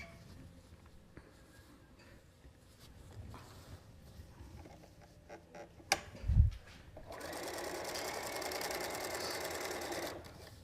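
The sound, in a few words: sewing machine sewing quilt strips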